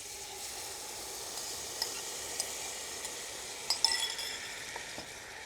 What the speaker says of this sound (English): Once butter is almost melted, put in 1 can of fire roasted tomatoes